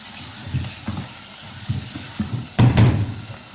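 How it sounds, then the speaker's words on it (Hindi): Ginger garlic paste fries in a pan for a beetroot and meat curry, a soft low sizzle broken by several stirring scrapes and clatters, with a louder burst of sizzling and utensil knocks near the end. "ये 2 टेबलस्पून अदरक लहसुन का पेस्ट डाला। इसको थोड़ा सा भूनेंगे"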